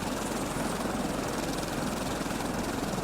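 A gyrocopter engine in the PS4 survival game Stranded Deep drones and throbs with a steady rotor chop, loud and continuous throughout, with no talking.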